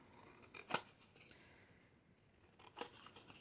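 Scissors cutting paper for a handmade Christmas tree decoration: faint, close snips and soft paper rustles, a sharper cut near the start and a few more toward the end, with quiet stretches between.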